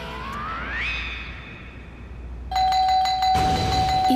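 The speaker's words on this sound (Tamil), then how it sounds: "இத்தனை தடவை காலிங் பெல் யார் அடிக்கிறது?" A doorbell rings in a Tamil TV serial home scene, with a rising chime followed by sustained bell tones that start at mid-clip and continue to the end.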